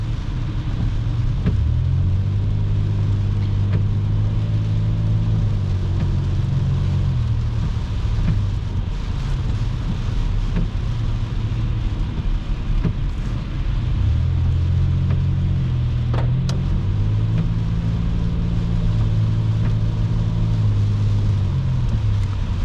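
Heavy highway traffic with semi-trucks passing on both sides, a continuous low engine and road rumble that swells twice as large vehicles go by, heard from inside a moving car without talk.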